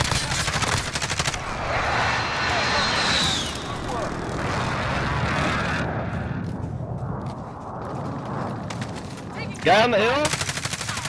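Bursts of automatic gunfire and rapid shots crackle through a Call of Duty Warzone match, loud at first and then thinning out, with players talking over the fighting.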